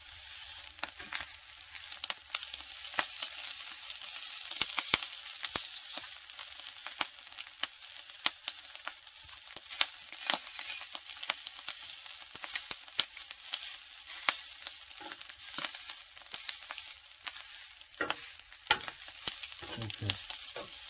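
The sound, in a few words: rice frying and being stirred for cup ramen fried rice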